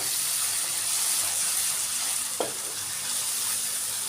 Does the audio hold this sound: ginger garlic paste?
yes